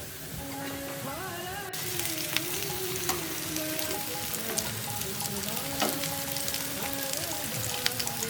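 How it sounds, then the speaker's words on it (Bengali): Sesame vada shallow-fry in mustard oil, a dense, steady crackling sizzle with scattered pops running throughout, close and continuous with no voices. "যেহেতু শ্যালো ফ্রাই করছি তাই অল্প আছে সময় নিয়ে দুপাশ ভালোভাবে ভেজে নিতে হবে"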